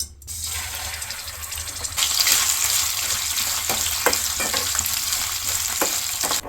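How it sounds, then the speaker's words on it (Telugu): Dried prawns frying in hot oil for a telagapindi curry, a loud close hiss and crackle that jumps up as they hit the pan, with scattered stirring clacks through the steady sizzle. "ఫస్ట్ రొయ్యలు వేపుకోవాలన్నమాట మనం"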